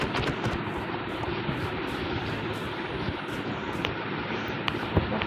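A boat glides across water in the Minecraft video game, a continuous rushing, windy wash of water with a few faint clicks over it, steady and fairly loud throughout.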